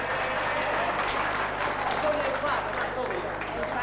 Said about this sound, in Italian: Facciamo un applauso all'amico di Milis.